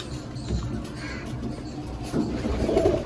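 Pigeons kept for sale, including a Madras pair, give low, soft cooing at close range amid a dull, murmuring background.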